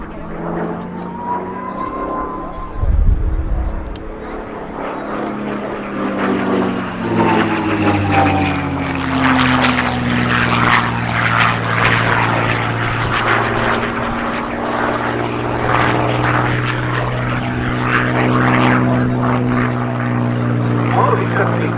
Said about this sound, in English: the aircraft, which became known as the P-51 in US Army Air Force's service, was powered by the Allison V-1710 engine